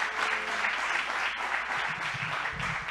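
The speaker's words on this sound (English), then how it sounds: "Come on and celebrate that. Y'all could clap for that." Church congregation applauding during a sermon, a steady wash of clapping filling the whole stretch at even loudness, with faint murmurs beneath.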